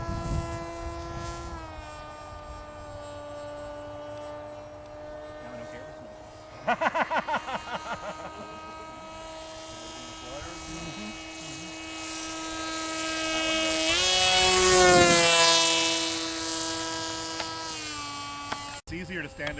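A radio-controlled model airplane at a flying field, its small engine buzzing and whining steadily, rising to a louder pass overhead before fading, with brief voices nearby.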